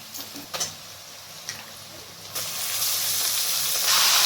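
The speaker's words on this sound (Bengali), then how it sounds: "এরপর আমি মাটনটা দিয়ে দিচ্ছি।" Mutton pieces drop into hot fried onions in a pan after a few light clicks; a loud hiss of sizzling swells up and holds steady at close range.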